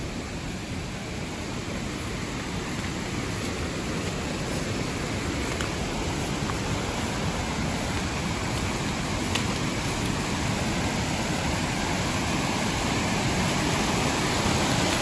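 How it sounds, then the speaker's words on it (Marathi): Rain-swollen forest streams rush steadily, a dense, even wash of flowing water that holds constant throughout with no voices. "पुढे तुम्हाला पाण्याचे वाहणाऱ्या झऱ्यांचे आवाज येतील"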